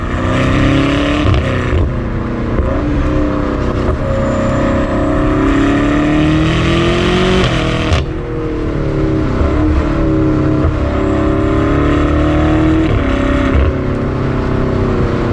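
A 2022 BMW M8 Competition Gran Coupe's engine and exhaust roar continuously and loudly, revving up and down as it accelerates, with a brief dip around a gear change.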